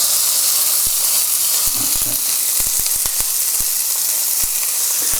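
A burger fries in oil in a pan over medium heat with a loud, steady sizzling hiss, scattered sharp pops and crackles breaking through it throughout; no voices.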